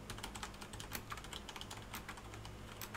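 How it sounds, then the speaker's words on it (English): Rapid, loud clacking of Logitech G710+ keyboard keys being pressed, a steady stream of sharp clicks close up with no voices. "And I'm pressing the buttons pretty damn loud right here."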